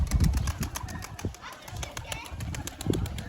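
Young pigeons in flight training flap their wings in bursts as they fly and settle, with soft cooing and a person talking nearby.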